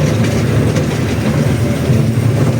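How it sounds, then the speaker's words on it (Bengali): A toy train at a zoo rumbles loudly and continuously with a rattling clatter of wheels, heard from on board, with no voices. "এখন আমি ট্রেনে উঠছি। খেলনা ট্রেনে।"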